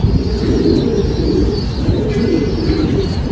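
Pigeons coo steadily on a rooftop in a low, continuous murmur, with a few faint chirps above and no voices.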